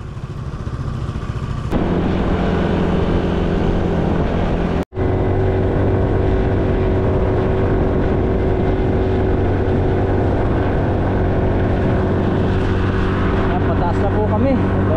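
A small motorcycle climbing uphill on a winding mountain road near an orange farm in Houli, Taiwan, its engine a loud, sustained drone heard close. After a brief cut, the drone resumes steady and strong.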